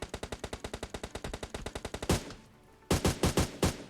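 Rapid automatic gunfire in PUBG Mobile, a steady burst of about twenty shots, then a pause and a few louder single shots, close and loud with no talking.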